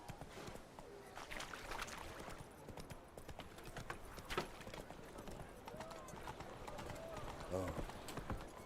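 Roach, a horse in The Witcher 3 video game, gallops with steady, rapid clip-clop hoofbeats running throughout, close and fairly loud, with game voices talking over the top and a brief whinny near the end.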